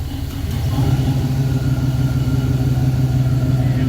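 A 1966 Pontiac Catalina wagon's engine runs loud and steady at a low rumbling idle as the car is put into drive, the tone rising slightly and then holding.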